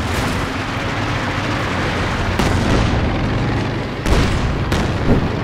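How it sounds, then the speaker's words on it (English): Heavy artillery fire in the World War II strategy game Company of Heroes 2, a loud, dense rumble of booms and explosions with sharper blasts cracking through partway in and near the end. "Oh, wow, a lot of artillery going on right there."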